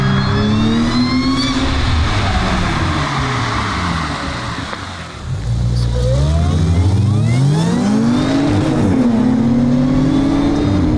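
A tuned Audi S5 Stage 3 engine revs repeatedly, pitch climbing and falling in long sweeps, loud and close, with a brief dip before roaring up again.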